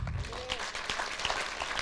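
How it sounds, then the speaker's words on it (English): A church congregation claps during a sermon, a fairly faint, diffuse wash of many hands heard from a distance, with a voice briefly audible over it. "Give God a hand clap"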